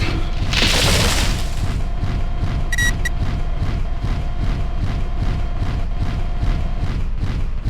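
A loud explosion from a destroyed target in MechWarrior 4 Vengeance bursts out near the start, followed by steady rhythmic mechanical thumping and a brief electronic chime.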